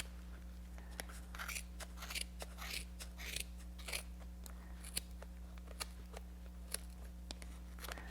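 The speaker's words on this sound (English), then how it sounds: "we're gonna again put our scissors in this little gap that they have for you" Quiet, repeated snips of sharp scissors cutting yarn, irregular crisp clicks against a steady low electrical hum.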